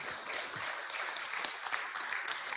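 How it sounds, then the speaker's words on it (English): At an evening event, an audience gives a round of applause, a continuous spread of many hands clapping that sounds fairly distant and subdued, steady across its short length with no voices on top. "Let's give Pam a round of applause"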